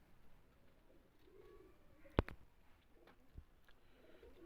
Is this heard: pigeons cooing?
yes